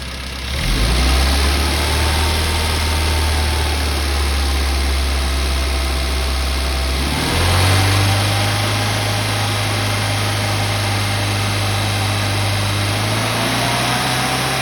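A tuned car engine idles steadily after its fuel mixture is leaned out, a close, even hum with a brief rise in revs partway through before settling into a slightly higher idle.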